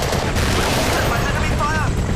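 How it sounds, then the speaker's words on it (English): Dense video game gunfire crackles continuously in a short, loud, close burst, layered with a rumbling battle din and no clear pauses. "Enemy fire concentrated on our area!"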